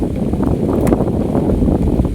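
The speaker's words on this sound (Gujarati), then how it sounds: "પવન આવે એવો દોસ્તો કે તમને એકદમ અવાજ આવતો છે પીપળાનો" Wind sweeps through a peepal tree on a farm, making a steady, close, low-heavy rushing roar with gusty buffeting and no clear pauses.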